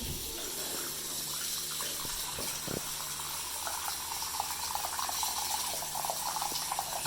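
Water runs steadily into a bathroom sink basin as it fills, testing a newly replaced pop-up drain assembly, with a faint clack or two early on and no talking.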